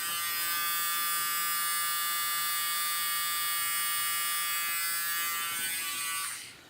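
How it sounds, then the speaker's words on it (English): An electric nose hair trimmer runs with a steady, high-pitched whine and buzz for about six seconds, close and fairly quiet, then winds down and cuts off at the end. "when it's around your nose it sounds just like any other nose hair trimmer"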